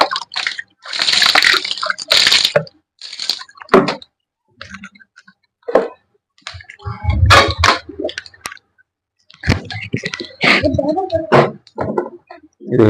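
Water poured over and splashing on a stand fan's ring during cleaning, heard in close, intermittent bursts of splashing and clattering handling noise with brief gaps.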